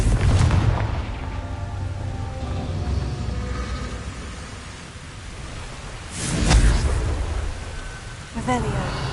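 A Confringo fire spell in Hogwarts Legacy goes off with a low, rumbling blast, preceded by an earlier boom and followed by a louder burst later, under a steady noisy game soundscape with some spoken voice.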